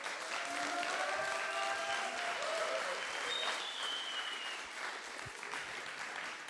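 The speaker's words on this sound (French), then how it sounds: "Je pense que vous pouvez vous applaudir d'ailleurs." An audience at a data science bootcamp demo day applauds the graduating students, steady clapping from a room of people at moderate distance, fairly soft overall, with a few voices calling out over it.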